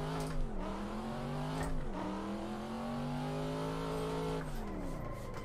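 A Mazda Miata engine in a racing sim game revs steadily and loudly, pitch climbing and dipping through shifts with brief drops near the start and end, continuous and close with no talk.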